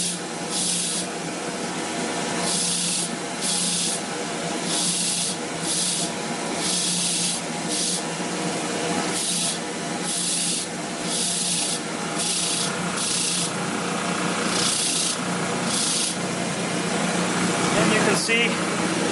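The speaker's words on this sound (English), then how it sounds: "I'm using a low speed on my grinder." A grinder at low speed cleans a part from a Hoover WindTunnel self-propelled upright vacuum, making repeated rhythmic rasping passes of rubbing and sanding with a constant motor hum beneath, and a voice speaks over it.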